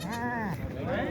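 A goat bleats loudly and close by at a livestock market in Talagang, Pakistan, one long wavering cry with a rising and falling pitch.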